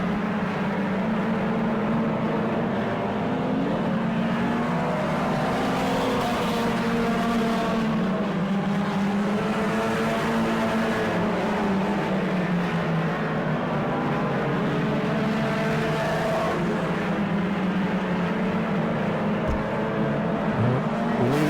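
Race cars circling the track during a season-opening race at Auburndale, with several engines droning together and pitch rising and falling as the cars pass, a steady unbroken roar throughout with no voices.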